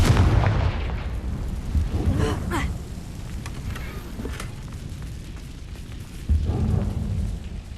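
Confringo blasting spells erupt during a Hogwarts Legacy video game fight: heavy booming blasts with a crackling, rain-like hiss, one early and another strong hit near the end, over a steady wash of battle noise.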